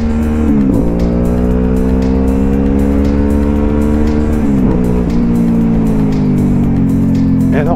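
Loud, close engine drone from an Aprilia Dorsoduro motorcycle being ridden, holding a steady tone with shifts in pitch as it changes gear and revs, heard continuously and with no talking.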